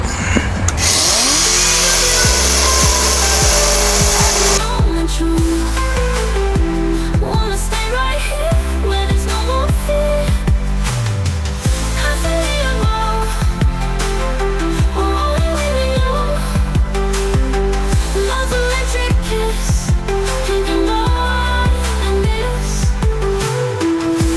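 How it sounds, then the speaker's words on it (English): Grinding and cleaning bare metal on a wrecked BMW M140i during repair: a loud, continuous power-tool whine with shifting pitch and rough grinding texture that runs steadily throughout without talk. "all this needs grinding down, cleaning up"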